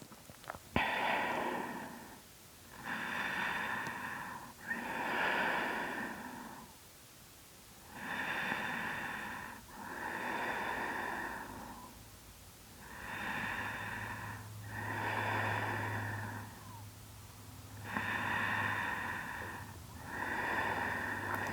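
Slow, steady breaths drawn in and out through the nose during a postpartum yoga quad stretch, about eight airy, close breaths in an even rhythm, with no talking.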